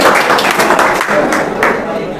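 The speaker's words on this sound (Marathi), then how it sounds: "जोरदार टाळ्या उद्या" Audience at a quiz event applauding a correct answer, a short burst of close clapping lasting about two seconds, with voices mixed in beneath the claps.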